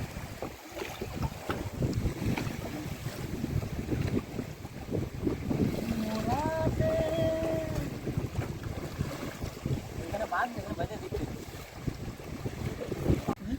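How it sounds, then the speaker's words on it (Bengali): Strong southerly wind buffets a fishing boat on the Matla river in the Sundarbans, a continuous rushing gusty roar with wind hitting the microphone, water slapping and a few faint tonal creaks midway. "প্রচণ্ড হাওয়া কিন্তু নদীতে, এখন দক্ষিণে হাওয়া।"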